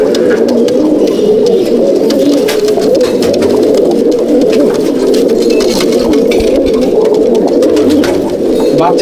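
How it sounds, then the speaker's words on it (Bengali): Malbai/Panjabi pigeons coo steadily in a loft, a dense, continuous murmur of overlapping low throaty calls from many birds close by, with no talk. "পায়রা দেখুন A1 কোয়ালিটির পায়রা।"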